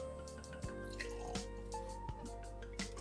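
Old Forester 100 whiskey poured lightly into a glass gives a quiet, intermittent trickle of liquid with a few soft drips and splashes, close and alone.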